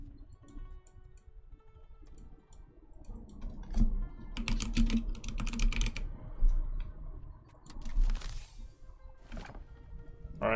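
Computer keyboard keys and mouse buttons click in scattered, quiet bursts over a low background hum while someone plays the strategy game Europa Universalis V. No one speaks.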